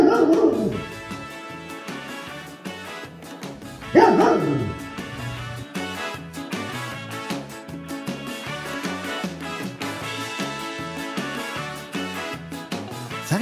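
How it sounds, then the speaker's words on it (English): A golden retriever barks repeatedly, sharp woofs and yips over a steady rhythmic music track, with a few whimpering notes between bursts. "Even while barking, Golden won't let anyone steal his ball."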